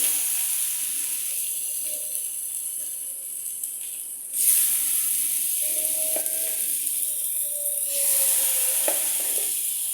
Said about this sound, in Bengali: মাছটাকে আমি হালকা ভেজে নেব